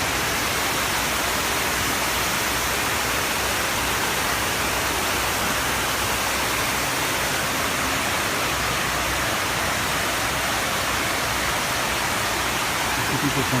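Water falling into the 9/11 memorial pools in New York, a continuous, even roar of cascading water that holds steady throughout with no breaks.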